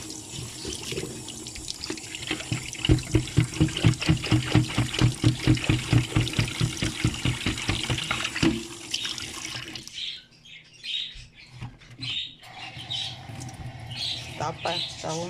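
Water gurgles and rushes down a drain that has just been unclogged. The pulsing is loud at first, then breaks off into sparse splashes and quieter sounds.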